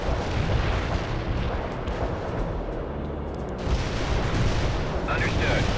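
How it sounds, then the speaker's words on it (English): Artillery barrages and explosions in the video game World in Conflict, a dense, continuous rumble of distant booms and bursts that swells briefly toward the end, under game radio chatter. "Artillery firing. Hostile units in target area are annihilated. A perfect artillery hit."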